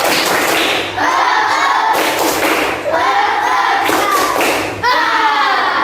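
A primary school class does a rhythmic clapping cheer, with bursts of sharp claps and thumps in a set pattern as children chant loudly together between the beats.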